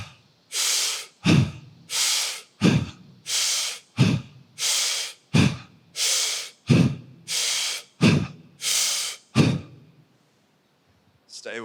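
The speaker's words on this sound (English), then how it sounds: "Be forceful with that inhale." Forceful breathwork session: about nine loud, rhythmic breath cycles, each a broad airy inhale followed by a sharp exhale, steady pace, close to the mic, ending in a brief quiet pause.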